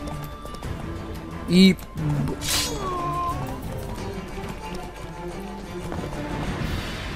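Horse running off in The Witcher 3, hoof clip-clops and a snorting whinny mixed under game sound effects and near continuous talking.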